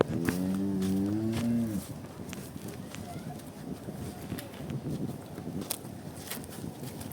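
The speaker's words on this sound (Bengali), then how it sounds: "এত পিওর একটা জার্সি গরু" A Jersey cow lets out one loud, drawn-out moo close by at the start. Afterward come shuffling, hoof-like movement noise and faint background sounds.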